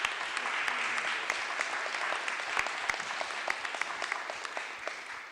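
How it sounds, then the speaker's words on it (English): A seated audience at a formal welcome session claps in a brief round of applause. Individual claps come through sharply at the front, and the steady, moderately loud patter tapers slightly toward the end with no talk. "I ask for a brief round of applause to the one who"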